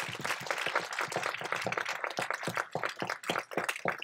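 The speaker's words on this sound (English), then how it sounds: "Give them a round of applause" An audience at a talk about creator-driven shows gives a round of applause, steady dense clapping that stays loud for several seconds.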